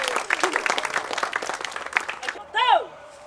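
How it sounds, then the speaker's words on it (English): A crowd applauds after a Māori cultural performance in Rotorua, with brisk clapping for a couple of seconds before it drops away and a rising-and-falling whoop or whistle rings out. "Give them all a round of applause."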